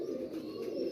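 Ferozpuri breed pigeons cooing steadily and close by, a continuous low throaty murmur with no talk over it.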